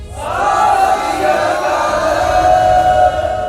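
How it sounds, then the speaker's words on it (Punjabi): A crowd of Sikhs roars the jaikara war cry together, a loud sustained collective shout rising early and held for several seconds. "ਤੁਸੀਂ ਜੈਕਾਰਾ ਗਜਾਓ ਗਿਆਨੀ ਜੀ, ਸਾਰਿਆਂ ਨੂੰ ਮਨਜ਼ੂਰ ਆ। ਬੋਲੇ ਸੋਨਿਹਾਲ।"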